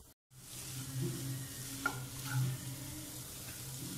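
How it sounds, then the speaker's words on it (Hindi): Crushed motichoor boondi roasts in a pan over a low flame, a soft steady sizzle with scraping stirring strokes and a few light clinks, close and quiet with no talking. "बिल्कुल लो फ्लेम पे इसे क्रश करेंगे, सिकने देंगे हम बिल्कुल लाइट पे"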